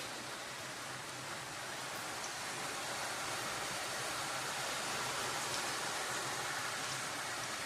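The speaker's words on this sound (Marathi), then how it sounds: "पाऊस पण चालू आहे दुपारपासून" Steady rain falling through the afternoon outside a home, a continuous even hiss of drops that does not change, heard alone at moderate level.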